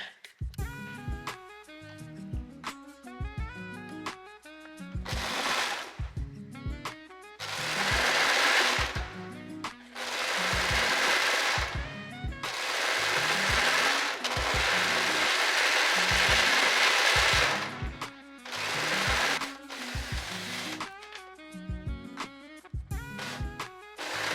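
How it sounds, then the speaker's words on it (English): A sewing machine stitches the side seams of a stretchy off-shoulder sweater in bursts of rapid, steady whirring, with short pauses and clicks between runs, loud and close with no talking. "So I'm gonna sew this side together, and then also the other side I'm gonna sew together."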